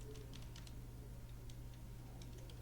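Short bursts of clicky key presses on a computer keyboard, faint and close, over a low steady hum with no talking.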